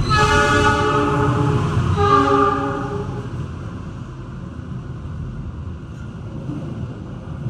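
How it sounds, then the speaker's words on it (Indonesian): The Argo Lawu passenger train rumbles loudly straight through a station in Indonesia with a sustained horn blast at the start, then the rolling roar of rail cars continues steadily. "Yang melintas langsung kereta api Argo Lawu dari stasiun Solo Balapan tujuan stasiun Gambir"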